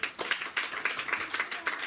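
Congregation in a French-speaking church service clapping in uneven bursts, a loose rhythmic patter of many hands with some voices mixed in, moderately loud throughout.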